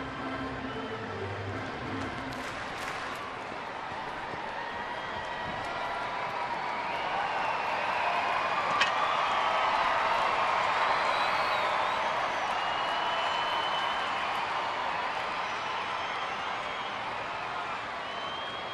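Baseball stadium crowd at a Marlins–Padres game booing, a broad sustained roar swelling in the middle and easing off, carried at a distance beneath broadcast ambience.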